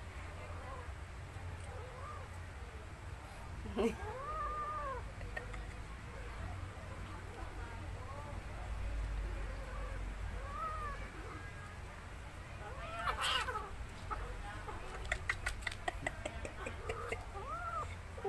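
A cat and a dog squabbling over a bone, with cat-like yowls and wails repeating through a steady background hum and a burst of sharper clicks near the end; people talk and laugh nearby.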